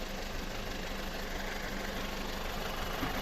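A car engine idles with a misfiring fourth-cylinder injector and a non-working knock sensor, giving a steady, close mechanical drone with a dense low rumble and faint ticking and no obvious pauses.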